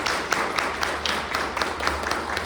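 Applause from a lecture audience at a talk on serving God and Mammon, a brisk run of clapping with sharp individual claps standing out, no voices.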